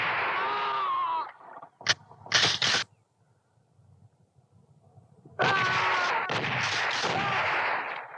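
Gunfire in a film scene comes as long, loud, close bursts of rapid shots with a couple of sharp single cracks in between and a quiet gap in the middle.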